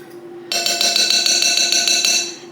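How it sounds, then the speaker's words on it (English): A fork clinks against a bowl while lightly mixing dry dough ingredients, including salt, for activated-charcoal burger buns; bright, ringing metallic taps repeat steadily and close-up, with no talk. "I'm gonna take a fork and just lightly mix"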